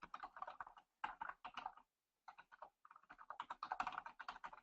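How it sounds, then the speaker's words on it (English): Someone types on a computer keyboard in a medical records program, steady clusters of quiet key clicks broken by short pauses, close and isolated. "I'm going to go ahead and type"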